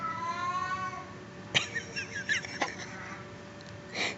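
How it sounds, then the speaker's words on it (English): A cat meows a few times indoors, the calls faint and spaced out, with bird-like chirps and short knocks in between. "that is a cat."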